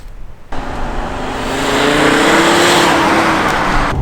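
An Alfa Romeo car drives along, its engine note rising from a quiet start into a loud, steady drone with a faint whine, heard close from inside.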